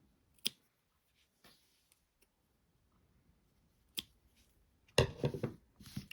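Scissors snip the yarn tail ends of a crocheted amigurumi doll, a few sharp isolated clicks close by, followed by a soft rustling burst of handling at the end.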